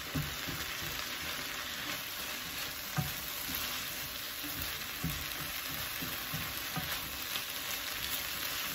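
Onions sizzle and crackle steadily in hot oil in a wok, with occasional scraping stirs breaking through the continuous frying hiss.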